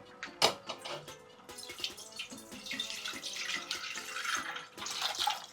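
Water pours and splashes into a metal pan, a continuous rushing stream with a few clanks of the vessel at the start.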